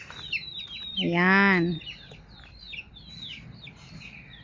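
A single loud squawk from a chicken in a free-range coop, lasting under a second amid faint background clucks, with people talking nearby.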